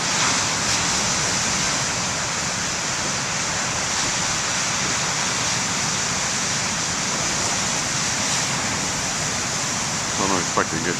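Ocean surf at the BTL main lighthouse beach makes a steady, broad roar of breaking waves that continues without pause for about eleven seconds, close and fairly loud.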